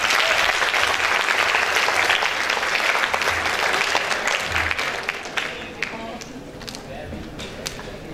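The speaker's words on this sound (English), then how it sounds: "Please give big applause for them." Steady applause for a seminar panel at a Kuehne Foundation event, dense clapping that thins and fades toward the end, with some voices mixed in underneath.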